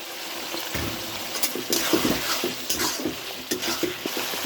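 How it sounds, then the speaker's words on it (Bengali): Prawns are stirred into a frying pan of cooking pui greens, giving soft sizzling with scraping stirs and clatter from a spatula against the pan, close and moderately loud. "এখন দিয়ে দিচ্ছি চিংড়ি মাছ।"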